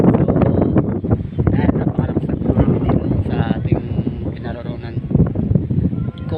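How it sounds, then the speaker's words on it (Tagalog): Strong wind buffets the microphone with loud, rumbling gusts while a person talks over it. "ang lakas ng hangin po dito"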